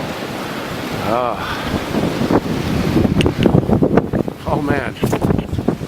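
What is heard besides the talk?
strong blizzard wind blowing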